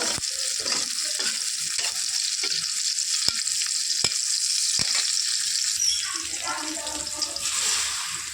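An egg fries in a pan beside vegetables for fried rice, giving a loud, steady crackling sizzle throughout, with a few sharp clicks and brief quieter gaps in the hiss near the end.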